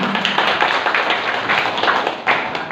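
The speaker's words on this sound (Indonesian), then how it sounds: "Tepuk tangan" Brisk clapping from a room of classic bicycle club members at a meeting, honouring a member's award, with individual claps distinct and fairly close, slightly uneven, and a brief louder burst near the end.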